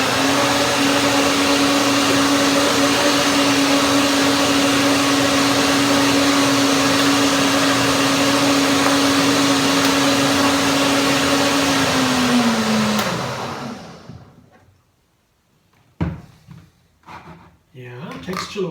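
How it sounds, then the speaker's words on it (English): A blender whirs steadily while blending a hazelnut, spinach and banana smoothie, a loud even motor whine that winds down and stops, followed by a few clunks and knocks. "One more blending."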